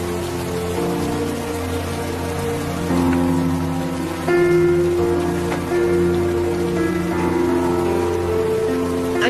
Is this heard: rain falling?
yes